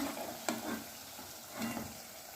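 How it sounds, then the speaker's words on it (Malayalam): Rava and coconut snack frying in hot oil, a soft continuous sizzle broken by a few sharp spatters and stirring scrapes, close and moderately quiet, with no talking. "ബ്രൗൺ കളർ ആവുന്നവരെ വരെ ഫ്രൈ ചെയ്യണം കേട്ടോ"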